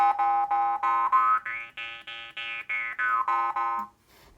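A jaw harp plucked in a steady run of twangy notes, the pitch gliding up then back down, close and fairly loud with no voices.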